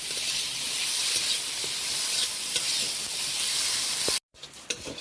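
Shrimp and onion fry in a pan with a steady close sizzle and repeated stirring scrapes, cut off abruptly near the end before faint clatter resumes.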